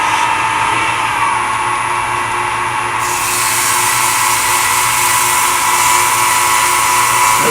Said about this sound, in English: I better sand a little bit first